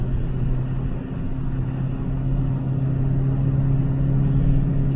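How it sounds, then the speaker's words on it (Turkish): Renault Laguna 1 car engine droning steadily from inside the cabin while driving at night under light throttle, a low constant hum with no talking. "Hani motor sesi var arkadaşlar."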